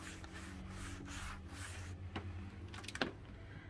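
A cloth is rubbed back and forth over a stubborn stain on a PVC window frame, giving soft, steady scrubbing strokes up close, a few sharper scrapes near the end and no talk.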